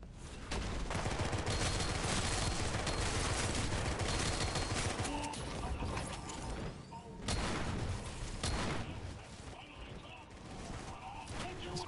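Video game gunfire roars in loud, dense bursts of rapid shots and booms, nearly continuous for several seconds, with people talking over the shooting.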